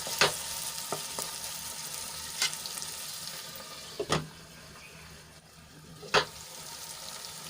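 Tomato and onion cook in a pan as part of a brinjal curry, giving a steady soft sizzle with several sharp clacks of a spoon or lid at intervals.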